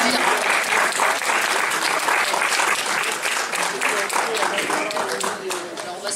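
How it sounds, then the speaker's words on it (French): A large audience applauds at a film festival talk, with dense, loud, sustained clapping that fades slightly toward the end. "On peut applaudir."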